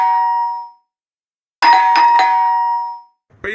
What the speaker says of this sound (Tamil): காலிங் பெல் அடிக்கிறாங்க